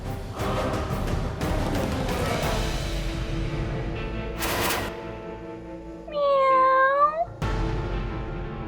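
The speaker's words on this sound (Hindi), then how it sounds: "शायद बाहर कोई बिल्ली भूखी है।" A cat meows with a drawn-out, wavering cry near the end, following a stretch of rustling household noise and thumps.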